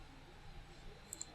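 Two faint, quick clicks of a computer mouse near the end, sounding over a quiet room hum.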